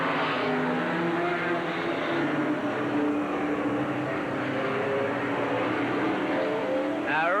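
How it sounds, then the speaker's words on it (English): Race cars circle Eugene Speedway in a 1986 race, a continuous, loud engine roar from several cars blending together without pause, steady in level throughout. "Green flag, and we're racing again."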